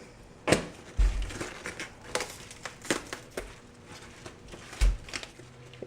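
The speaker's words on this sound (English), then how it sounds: "Now the first thing you want to do is peel a few leaves of the cabbage" Leaves are peeled and torn off a head of cabbage, giving close crisp cracks and crinkling snaps in irregular bursts, with a few heavier thumps and rustling in between, no speech.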